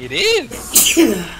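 A single sharp sneeze bursts out, followed by a short spoken reply close by.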